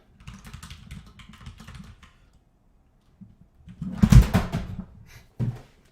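Bursts of computer keyboard typing close by, a run of keystrokes, a pause, then a louder flurry and a final isolated clack.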